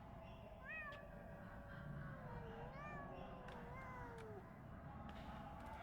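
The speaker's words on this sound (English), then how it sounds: "Someone just keeps meowing." A cat meows repeatedly in the video game Pathologic 2, several rising and falling mewls spread over a low ambient hum, fairly quiet and somewhat distant.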